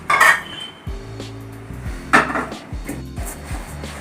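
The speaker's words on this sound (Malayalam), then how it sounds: "നമുക്കിനി അവിലൊന്ന് വറുത്തെടുക്കാം." A spatula stirs rice flakes (aval) being dry-roasted in a pan over low heat, producing repeated scraping squeaks and clanks of utensil against metal in an irregular rhythm, close and fairly loud.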